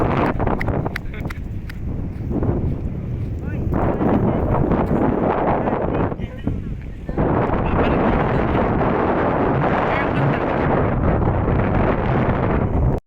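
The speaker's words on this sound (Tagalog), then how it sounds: "Lakas ng hangin dito." Strong wind on Bantayan Island buffets the microphone in a constant loud roar, briefly easing twice, with a person talking underneath.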